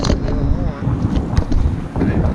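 Outdoor wind buffets the microphone in a strong, steady low rumble. Some voice-like sounds sit faintly under the noise.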